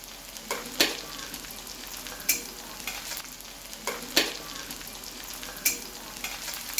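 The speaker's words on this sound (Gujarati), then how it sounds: "લસણ અને લીલા મરચાં તમારે આ રીતે થોડા સાતળી લેવાના" Chopped garlic and green chillies sauté in oil for a Gujarati spinach dish, a quiet steady sizzle broken by a few sharp spatula knocks and scrapes against the pan.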